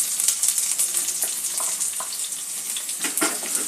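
Chopped onion sizzles steadily in a hot pan of oil and tempering spices, with occasional stirring clicks over a constant close hiss, no talking.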